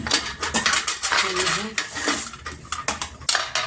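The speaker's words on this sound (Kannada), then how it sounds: "ನಾನು ಇಡ್ಲಿ ಪಾತ್ರೆ ತೊಗೊಂಡಿದ್ದೀನಿ" Metal idli steamer vessel handled in a home kitchen: a quick series of close, loud clanks and rattling clatters of metal pots and plates, irregular in rhythm throughout.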